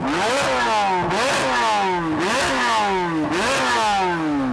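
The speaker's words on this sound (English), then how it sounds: "the V8 in the Z06, which uses a flat plane crank. It makes the American car sound more like a Ferrari" A Corvette Z06 flat-plane crank V8 screams up through the rev range in repeated rising sweeps, loud and close, with a sharp, racy edge and no talking.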